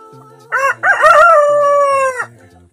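A single loud rooster crow rings out close by, a long drawn-out call.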